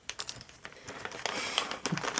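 Plastic packaging being pulled apart from paper while unboxing a model kit, giving faint, irregular crinkles, rustles and small clicks close by, with no talking.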